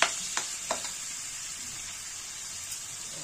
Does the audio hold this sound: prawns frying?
yes